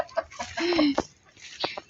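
Short soft clucks and chirpy peeps from young giant-breed chickens, close by, with a brief squeaky call in the middle and gaps of quiet.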